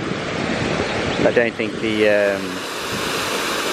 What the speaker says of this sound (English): and it's windy again.